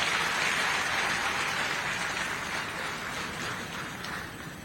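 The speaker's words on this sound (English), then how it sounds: "Another round of applause for His Excellency." An audience at a BETUZ silver jubilee celebration in Mulungushi International Conference hall applauds His Excellency with sustained, dense clapping from a large crowd, steady throughout and slowly easing, with no voices on top.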